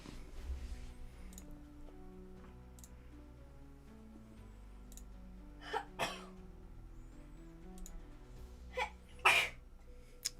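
A person sneezes during a Roblox Arise Crossover gaming session, two sharp bursts about three seconds apart over game music and background noise, fairly close and loud.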